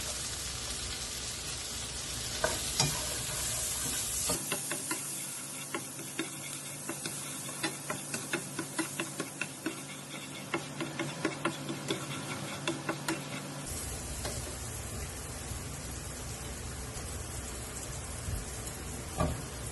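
Ginger and garlic fry in a pan for Jamaican curry fish, a quiet sizzle with a run of light, regular ticking taps through the middle, close and without talk.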